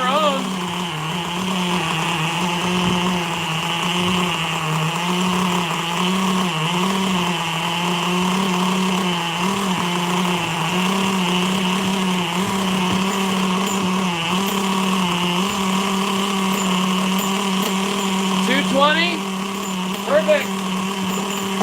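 A nitro RC car engine idles steadily on its own with a constant buzzing drone, loud and close, with a couple of brief higher whines near the end.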